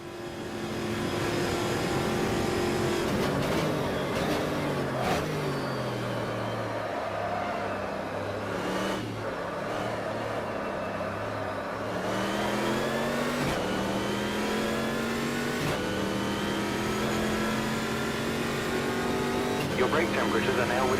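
Race car engine in a racing video game, a Copa Montana at Spa, revving and accelerating hard through the early gears, pitch climbing and dropping with each shift, steady and loud throughout, with faint voice traces mixed in.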